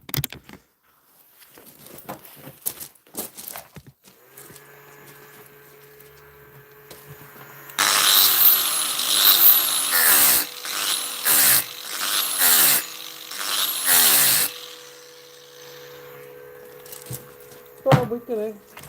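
An angle grinder works on the metal of a custom e-bike hub, cutting in with a loud, harsh burst for several seconds in stuttering passes. Someone speaks before and after the grinding.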